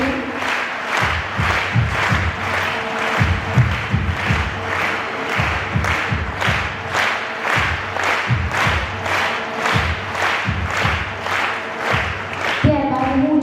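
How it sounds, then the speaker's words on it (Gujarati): Audience applause at a formal welcome ceremony where guests are presented with flower bouquets, sustained steady clapping from a crowd with a brief pause near the end, close and fairly loud with no speech over it. "આપણી તાળીઓ બંધ ન રહેવી જોઈએ"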